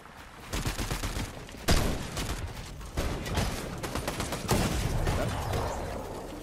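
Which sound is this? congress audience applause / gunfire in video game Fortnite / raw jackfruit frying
gunfire in video game Fortnite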